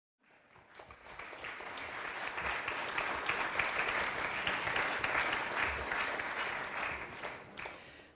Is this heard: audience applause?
yes